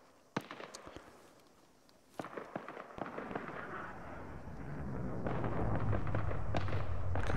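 Gunfire in the video game Arma 3, scattered sharp cracks and pops at a distance that thicken into a denser rumble of shots and booms.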